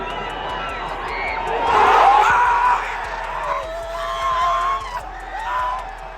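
A stadium crowd cheers and roars at an FC Dallas soccer game, swelling loudly around the middle and then settling into a steady, distant din.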